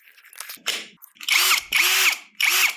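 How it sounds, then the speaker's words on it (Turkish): An Einhell TP-CD 18/80 Li-i BL brushless cordless drill whirs in three short bursts, each spinning up quickly and cutting off, close by, after some faint handling clicks. "O yüzden bir matkabın sesini duyabiliriz."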